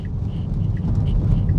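Rain drumming on a Tesla while it cruises on a French highway, heard from inside the cabin as a steady low rumble of road and rain noise with light patters on top, continuous and fairly loud.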